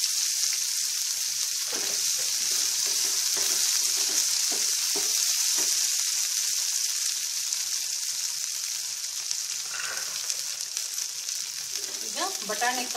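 Chopped spring onion and fresh ginger fry in a pan with coriander leaves for a potli samosa filling, giving a steady, close hiss of sizzling oil with a few soft stirring scrapes.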